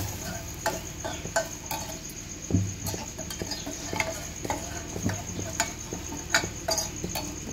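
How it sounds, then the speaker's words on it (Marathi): A mixture stirred slowly in a pan for a thin amti, the utensil giving soft intermittent scrapes and light clicks against the pan over a low background, with no talking. "आणि हे मिश्रण हळूहळू फिरवायचं"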